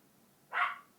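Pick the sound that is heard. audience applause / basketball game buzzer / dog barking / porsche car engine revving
dog barking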